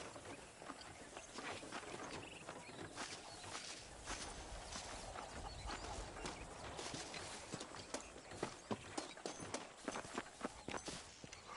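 A horse's hooves clip-clop steadily in the Red Dead Redemption video game, a brisk, continuous rhythm of sharp hoof hits over a dense bed of outdoor background sound.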